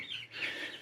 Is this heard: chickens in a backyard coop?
yes